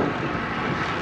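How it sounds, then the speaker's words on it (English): Steady roaring headwind rushes across the microphone of a cyclist riding south on Fairlake Lane, a dense, loud and unbroken whoosh with no voices. "Got some headwind"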